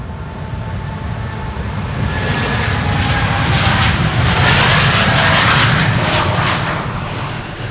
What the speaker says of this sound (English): Dreamliner in, Dreamliner out.